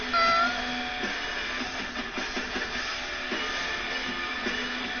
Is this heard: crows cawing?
no